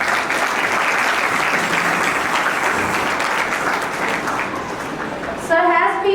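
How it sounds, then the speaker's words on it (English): An audience at a school investiture ceremony welcomes a chief guest with sustained clapping that fills the hall, easing off slightly before a voice speaks over its tail end. "A huge round of applause."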